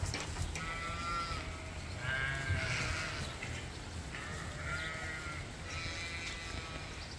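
Several sheep bleat repeatedly indoors in a barn during steady rain, overlapping calls rising and falling over a steady low background hum.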